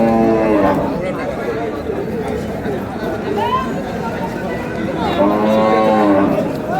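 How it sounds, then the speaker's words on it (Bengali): Cattle moo repeatedly, loud and close, at a busy village livestock market at Ambari Hat in Dinajpur, with several drawn-out calls over steady crowd chatter and bargaining voices. "ষাঁড় বাচ্চা।"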